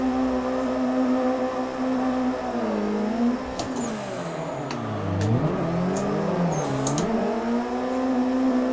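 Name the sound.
drift car engine revving during tandem drift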